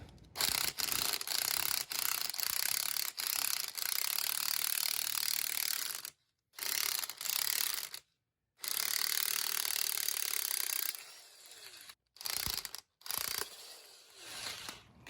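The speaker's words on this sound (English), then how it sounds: "I'm going to run this impact, tighten, loosen, tighten, loosen" Impact wrench hammering in repeated bursts to break loose a seized shock absorber nut on a strut assembly from a 2007 GMC Sierra, loud and close, with short pauses between runs and no talking.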